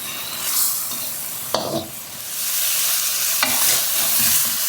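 Young chicken egg clusters being stir-fried with holy basil and dried chilli in a hot pan: a steady loud sizzle with two sharp scraping stirs of a spatula, no voices.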